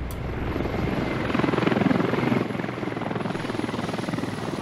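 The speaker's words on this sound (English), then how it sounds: "helicopter coming in for a landing here" A military helicopter in the video game Squad comes in to land, its rotor beating in a fast, steady chop over a loud engine whine that swells slightly midway and then settles.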